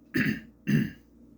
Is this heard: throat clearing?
yes